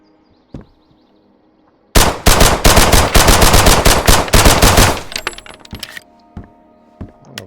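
Gunfire from the video game Road to Vostok erupts after a quiet start as a loud, rapid automatic burst lasting about three seconds, followed by softer metallic clinks and scattered small sounds.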